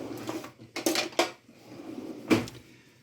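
Creamy black truffle pasta sauce being mixed in a pan with butter, heard as a few short clattering scrapes and knocks of utensil against pan, separated by quiet gaps.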